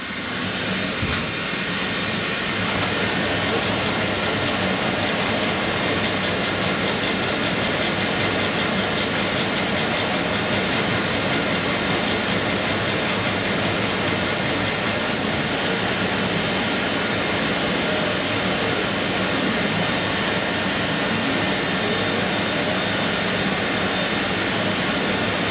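Air assist on a Lightblade laser cutter blows across the surface during engraving, producing a loud, steady, unbroken rushing hiss like a fan or blower that holds for the full stretch without talk.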